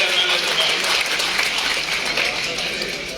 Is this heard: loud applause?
yes